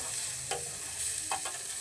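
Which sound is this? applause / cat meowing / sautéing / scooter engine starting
sautéing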